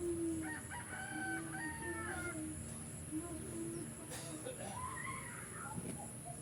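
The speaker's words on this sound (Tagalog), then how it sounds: "nagising kaya mga alaga niyang manok" Pet chickens and roosters crow in a village on an early morning, several long, rising calls with softer clucking between them, heard at a distance and fairly quiet.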